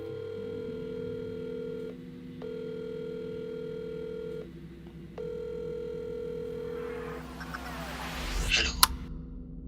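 A phone ringback tone repeats in long steady beeps with pauses between, over a low hum, ending with a short burst of noise and a click.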